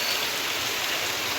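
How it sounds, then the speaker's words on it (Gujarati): Steady rain pours down in Rapar, a dense continuous patter of drops hitting surfaces nearby, even in loudness throughout with no voices. "આયો મહારાજ વરસાદ આયો"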